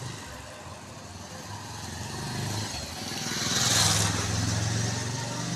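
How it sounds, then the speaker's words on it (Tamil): Hero Flash motorbike engine with an accelerator problem that makes the motor stick, running with a steady close hum that swells slightly when revved, and someone talking over it. "ஆக்சிலேட்டர் கொடுக்கும்போது ஸ்டக்காகி போகுது, ரன் ஆக மாட்டேங்குது மோட்ரு"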